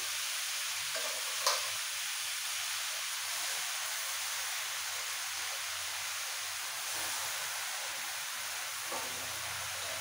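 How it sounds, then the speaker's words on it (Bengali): Pumpkin leaves stirred and fried with mixed vegetables for a pumpkin-leaf posto dish, a soft steady sizzle with faint scraping of stirring throughout, quiet and even, no talking. "ডাঁটা দেওয়ার পর সব সবজির সাথে মিক্স করে বেশি ভাজার দরকার নেই, দিয়ে দিতে হবে কুমড়ো শাকের পাতাগুলো।"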